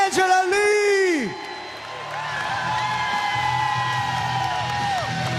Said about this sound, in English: A round of applause, Angela Lee!